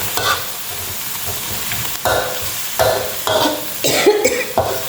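Pork stir-fried in a pan with curry-paste chili seasoning, sizzling steadily with repeated scraping bursts of a spatula roughly every second, close and moderately loud with no talking.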